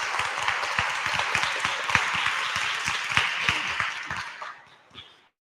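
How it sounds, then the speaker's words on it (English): Audience applause at a book launch, a dense burst of many hands clapping at moderate distance that fades out near the end, leaving silence. "Can we give them a big round of applause for that?"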